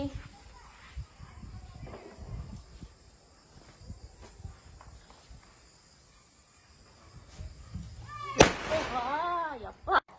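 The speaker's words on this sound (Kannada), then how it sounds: "ಅಮ್ಮನೇ ಸ್ಟಾರ್ಟ್ ಮಾಡಿದಾರೆ ಈ ಸಲ ಪಟಾಕಿ ಹೊಡಿಯಕ್ಕೆ" A Diwali firecracker goes off at home with one sharp, loud bang late in the clip, followed by whistling crackles. Quiet talk and background noise come before it.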